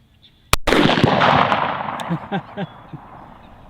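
A single loud 10mm pistol shot with Underwood XTP ammunition cracks out on an outdoor range aimed at a target 100 yards away, followed by a rolling echo that fades over a few seconds.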